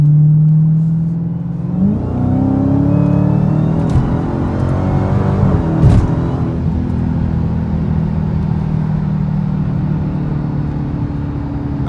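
Widebody Dodge Challenger Hellcat accelerating hard up an on-ramp, a loud deep engine roar climbing in pitch through the gears, with a brief shift break midway, then settling into a sustained, heavy drone.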